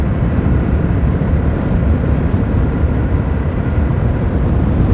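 A Jawa 42 motorcycle engine running in sixth gear at speed, a loud, steady low roar mixed with constant rushing wind noise and no break or talk throughout.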